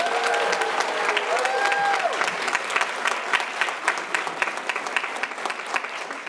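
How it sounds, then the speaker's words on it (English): An audience applauds a graduating pharmacy class at a white coat ceremony, a full burst of clapping that thins into scattered individual claps toward the end. "Please give them a round of applause."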